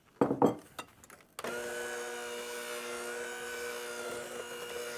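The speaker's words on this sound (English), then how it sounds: "And start your mixer on low." An electric stand mixer starts up on low speed, mixing flour into cookie dough; a few clunks and rattles come first, then a steady motor whine and hum runs to the end.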